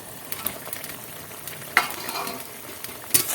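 Fried bhola fish being stirred into a simmering ol stalk curry, soft bubbling sizzle with intermittent scrapes and metallic clinks of a spoon against the pan, close and without talk.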